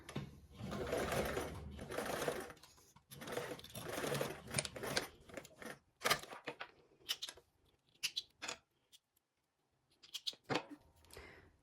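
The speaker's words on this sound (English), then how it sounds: "Now we're going to go ahead and baste these together." A sewing machine bastes fabric pattern pieces together in quick faint bursts of stitching, stopping and starting with short pauses between runs.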